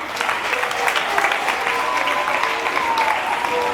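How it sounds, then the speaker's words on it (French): Audience applauding seated candidates at an inter-school mental arithmetic contest ceremony: dense, steady clapping from a large crowd, continuous and fairly loud throughout. "On va applaudir très fort les candidats qui sont assis là."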